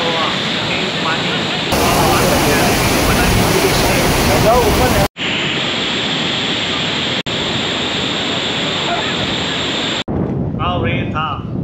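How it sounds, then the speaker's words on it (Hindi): Fast monsoon water pours down from the mountains at Amboli in the Sahyadri range, a loud continuous roar of falling water that stays steady through several abrupt cuts. "पहाड़ों से गिरता हुआ तेज पानी"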